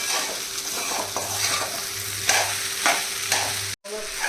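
Sabudana khichdi with potato stirred and sautéed in a pan over low gas, a soft steady sizzle broken by scraping strokes of the spoon every second or so, with no voices.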